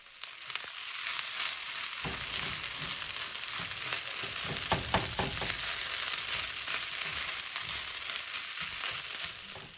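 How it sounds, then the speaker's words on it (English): Fried rice with lettuce, cilantro and scallion stir-fried in a pan gives a loud, steady sizzle close by, with a few short scraping clatters around the middle and no talking. "We're gonna mix and cook for about a minute."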